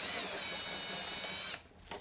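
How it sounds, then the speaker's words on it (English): A power drill whirs steadily for about a second and a half while guiding a part into a snug fit during the linkage build of a 50cc Extra RC plane, then stops abruptly, leaving a faint brief tail. "using a drill to kind of guide it down"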